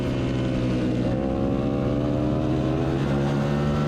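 A 660 racing motorcycle at Blackhawk Farms during an ASRA race, a loud sustained engine howl with shifting pitch, heard steadily from close by.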